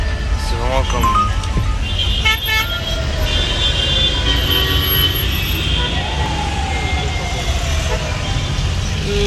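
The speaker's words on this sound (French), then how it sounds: "Ça klaxonne, on peut même pas passer." Car horns toot repeatedly through dense, slow-moving Egyptian street traffic, short bursts layered over a constant loud roar of engines, with people talking throughout.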